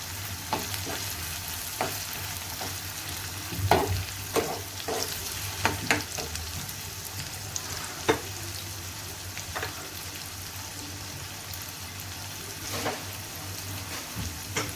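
Chana daal with ginger and green chillies frying in a pan: a steady, soft sizzle that runs throughout, broken by scraping clicks and knocks as the mixture is stirred, with no voices.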